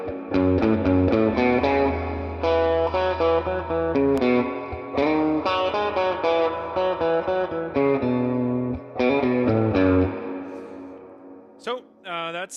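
A loud, overdriven electric guitar plays chords and riffs through a Swart AST Atomic Space Tone tube combo amp turned all the way up, with sustained notes, a brief pause, and a springy reverb crash near the end.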